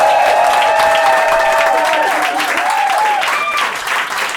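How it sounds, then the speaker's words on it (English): Steady applause from a large audience at a stand-up comedy show fills the whole stretch, loud and continuous, with a faint melodic tone running underneath. "Give yourselves a round of applause for coming."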